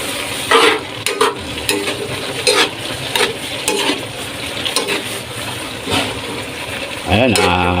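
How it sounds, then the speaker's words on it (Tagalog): A pot of dinuguan, Filipino pork blood stew, being stirred on the stove, with steady scraping and a low sizzle running throughout and occasional clinks of the utensil against the pot. "haluin natin para hindi masunog yung ilalim"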